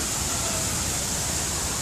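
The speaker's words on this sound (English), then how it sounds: "Small little waterfall." A small waterfall at Jurong Bird Park rushes in a steady, dense hiss of falling water, close and continuous with no variation over a couple of seconds and no voices.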